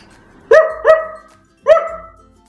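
A person imitates a dog barking during an animal-impression contest, giving three short, loud, close woofs, two in quick succession and then a third after a brief pause.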